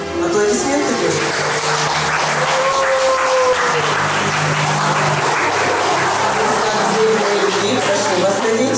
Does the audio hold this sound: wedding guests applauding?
yes